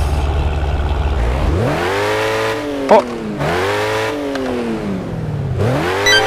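A 2.5-litre straight engine in the Car Parking mobile game revs up repeatedly, rising and falling in three sweeping accelerations with a tonal whine, close and loud, one brief tire-squeal-like chirp midway and a short spoken interjection.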